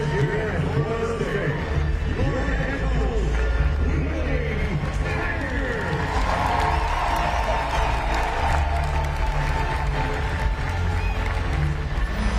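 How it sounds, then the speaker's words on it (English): Home stadium crowd at a Northern Illinois vs Florida State college football game applauding a coach introduction before kickoff, a steady, distant wash of clapping and cheering throughout, with a commentator talking over it. "I wouldn't call it an overly enthusiastic applause"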